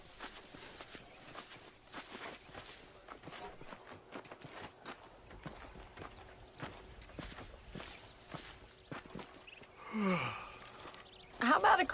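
Horse hooves and boots clop softly at a steady walking pace in the Red Dead Redemption western video game, with faint breaths and a louder rustling burst near the end.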